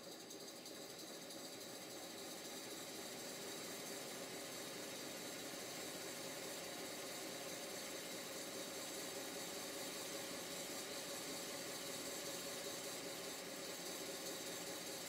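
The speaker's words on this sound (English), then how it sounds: "the engine is running very sweetly" A 5 inch gauge GWR 14XX model steam locomotive running on its own, giving a steady, even mechanical hum and whir that holds constant throughout, with no voices.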